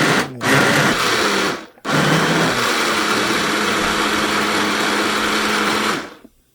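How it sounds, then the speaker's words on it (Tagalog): A blender whirs loudly, blending fresh milk, in two steady bursts split by a brief stop and ending in a sudden cutoff, with no voices over it. "Then, i-blend pa natin yan."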